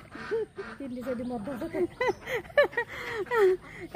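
Ducks kept near floodwater quack in quick, overlapping bursts, a close and busy run of nasal calls mixed with voices talking nearby.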